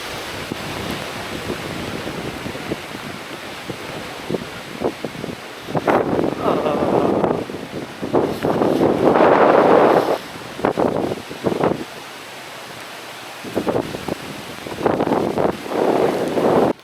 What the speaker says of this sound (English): it's pouring down with rain